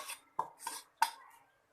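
Rice flour mixture is stirred into dosa batter: three or four sharp scrapes and clinks of a spoon against a metal vessel in quick, uneven succession, close and moderately loud.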